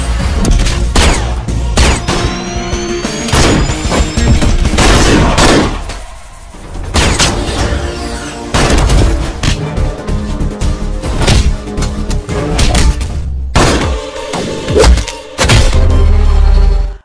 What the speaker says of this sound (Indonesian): Mereka baku tembak dan saling serang.